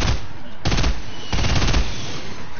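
Rapid bursts of automatic gunfire in a shooter video game, two loud dense volleys separated by short pauses with a continuous battle din underneath.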